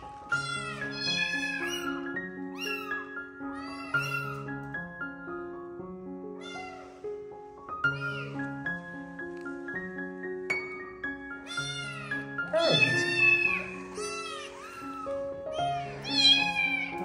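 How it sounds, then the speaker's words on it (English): A kitten meows repeatedly and insistently, high-pitched cries in a quick, uneven series, close and clear, with sustained tonal background sounds underneath. "Meow, meow."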